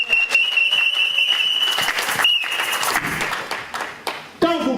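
A church congregation breaks into loud, sustained applause and cheering, with voices and tonal music sounding through the clapping until a brief lull near the end.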